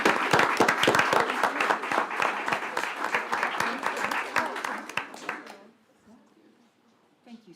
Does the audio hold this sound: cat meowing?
no